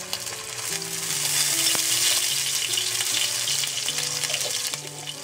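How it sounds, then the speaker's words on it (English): Ginger paste and finely minced garlic frying in a pan: a dense, steady hiss of sizzling oil, close and fairly loud, with faint stirring sounds and no talk. "Okay, so I've cooked the ginger and garlic for a minute."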